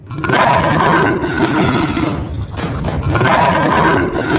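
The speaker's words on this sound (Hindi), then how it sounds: "तभी वहाँ शेरा का दहाड़ने की आवाज आती है" A lion roars loudly and close for about four seconds, a dense, rumbling roar with a brief dip midway before it surges again. No one speaks.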